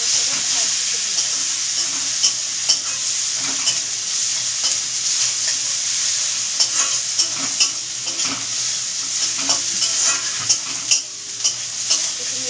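Onion and chopped tomato fry in a hot kadai with a continuous loud sizzle, while a spatula stirs and scrapes at an irregular rhythm throughout.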